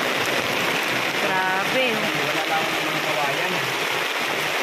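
Steady, dense rainfall hisses throughout, loud and close, with a voice speaking briefly over the downpour.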